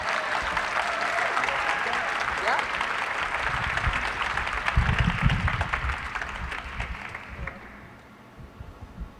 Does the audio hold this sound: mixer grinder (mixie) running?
no